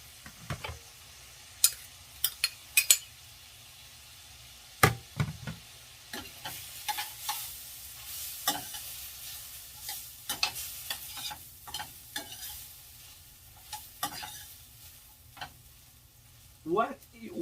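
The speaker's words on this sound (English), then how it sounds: "What you need to be cooking on that melange, guys, is the red pepper and the onions." Red pepper and onions fry in butter in a pan, a soft continuous sizzle broken by frequent sharp clicks and scrapes of stirring.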